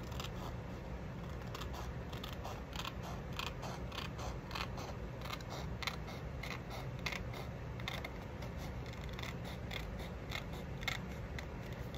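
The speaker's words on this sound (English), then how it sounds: "So you're just gonna cut these long flaps here." Scissors snip through long card flaps while a library card and pocket are altered, a quick run of small, faint, regular cuts at close range over a low background hum.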